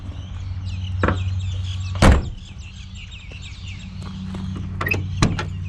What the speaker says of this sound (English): found one door that opens properly